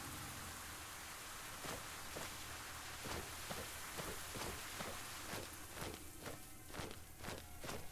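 Rain falls in the video game Cataclysm DDA, a faint steady hiss of pattering drops with a regular series of soft footstep-like taps running through it.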